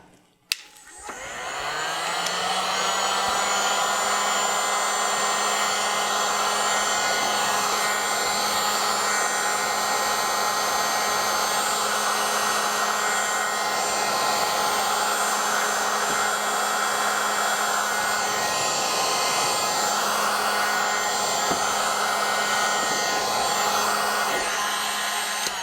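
A heat gun blows hot air over thermoplastic beads held in a tape container, a loud, steady, close whine and rush that starts with a click and runs unbroken.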